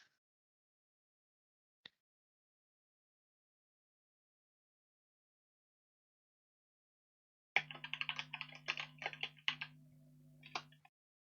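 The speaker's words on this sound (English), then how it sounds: "I am typing." Quiet at first, then a rapid burst of light clicking keystrokes for a few seconds, with a steady low hum underneath.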